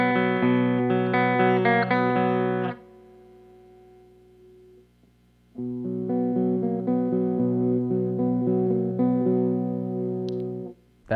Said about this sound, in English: That was the bridge pickup for just the electric.